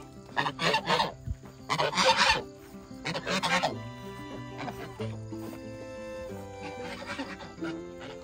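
Several loud, harsh bird calls in quick bursts from a rooster, then softer clucking and murmuring from the free-ranging chicken flock nearby.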